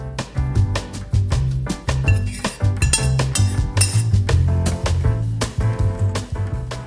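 Fried potatoes strained out of hot oil in a home kitchen give off busy metallic clinks and scrapes of utensils against pots, close and steady with quick irregular taps.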